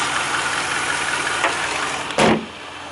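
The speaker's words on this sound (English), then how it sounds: "Very clean engine, ticks over very well as you can hear." Supercharged 4.2 V8 in a Range Rover Sport idling steadily with a smooth, even tick-over, close and continuous, with a brief louder burst near the end.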